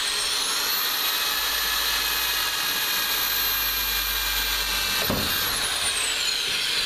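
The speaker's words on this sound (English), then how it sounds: "And I'm going to drill a hole here." A power drill whines steadily at close range as it bores a hole through the bottom engine cover of a Ford Escape, its pitch holding high before dropping away near the end, with no voices over it.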